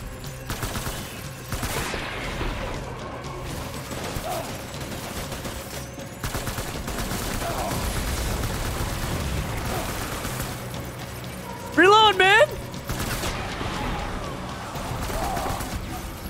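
Gunfire in the video game Death Stranding comes as bursts of shots and rapid firing spread across the scene, with a short electronic warble partway through, all under a steady game background.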